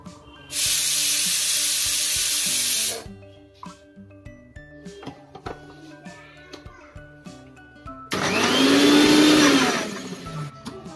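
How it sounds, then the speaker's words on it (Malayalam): A kitchen pressure cooker cooking chicken lets out a long loud steam hiss, then quieter clatter and clinks, before a second loud whistle-like blast of escaping steam with a rising tone. "അപ്പോൾ ഇതാ വിസിലൊക്കെ വന്ന് സ്റ്റീമൊക്കെ പോയിട്ടുണ്ട് കേട്ടോ"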